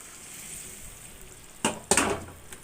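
Hot water hits the oil left in a pan after frying beef, giving a quiet background hiss, then two sudden loud sizzling bursts close by that fade into a steady crackle.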